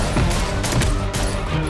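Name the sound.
gunfire in John Wick 2 film scene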